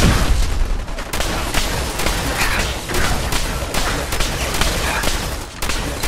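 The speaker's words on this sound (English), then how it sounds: "Yo, you're throwing grenades," Grenade explosions and gunfire in Fallout 4, a loud, unbroken barrage of rapid shots punctuated by heavy booming blasts throughout.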